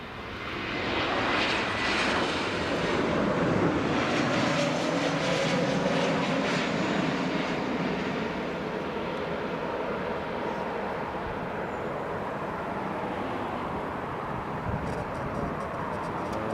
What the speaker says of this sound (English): Here comes the Wizz A321 Neo from Gdańsk.